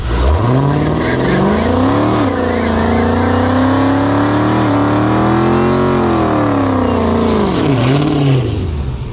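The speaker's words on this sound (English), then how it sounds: "Good sound and burnout." A loud engine revs and holds high, pitch rising and falling in long sweeps as tires spin, with a couple of sharp throttle blips.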